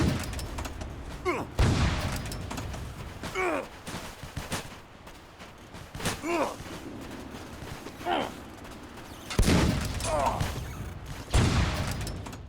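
Rocket weapon fire in a first-person shooter, with several sharp blasts spaced irregularly across the stretch, each followed by a short decaying rumble, loud and close, with faint voice chatter in between.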